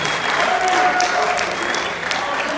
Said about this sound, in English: Can we give our volunteers a big round of applause,